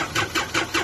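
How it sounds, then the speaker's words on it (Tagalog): Engine of a 3-ton forklift starting up, with short repeated chugging bursts about every fifth of a second, close and fairly loud. "umaandar na yung makina"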